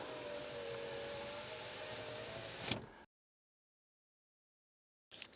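A Mercedes-Benz W140 S-Class power window runs auto up with a steady electric motor whine, ending in a soft thud as it seals, then silence before a brief noise returns.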